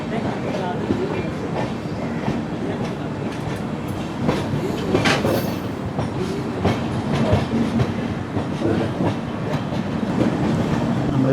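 Inside an AC 3-tier coach of the Mangaluru Super Fast express as it crosses points from the down line onto a loop line, a continuous rumble with rhythmic wheel clicks and clanks, with faint voices in the background.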